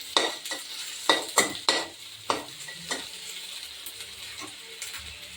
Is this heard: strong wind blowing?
no